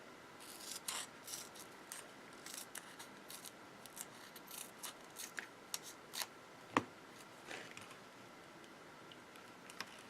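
Scissors cut a layer of paper in half, heard as a quiet run of crisp, irregular snips and clicks with a sharper snap near the end.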